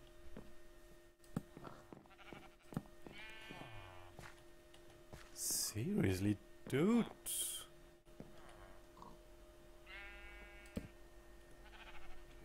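Sheep bleat in the video game Minecraft, a few short wavering calls clustered together over a steady game background while a person talks.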